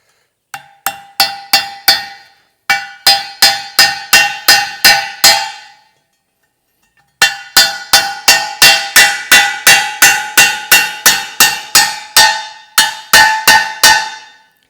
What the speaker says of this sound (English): So put the other washer on the other side and we'll drive in the pins.